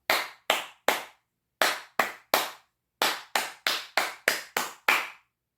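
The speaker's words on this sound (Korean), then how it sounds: "우리가 한번 심심하니까 337 박수로 한번 때려볼까?" A crowd claps in unison in the 3-3-7 pattern: three sharp claps, three more, then seven quicker claps, loud and close with short pauses between groups.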